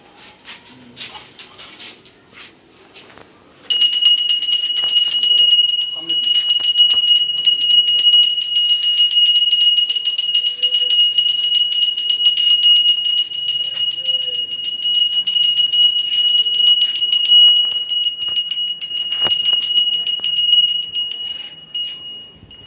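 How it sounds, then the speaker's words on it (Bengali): A hand bell rings continuously and loudly during a Vishwakarma puja at home, a sustained bright clanging that starts a few seconds in and carries on to the end, over faint background voices. "নাও ঘন্টা বাজাও।"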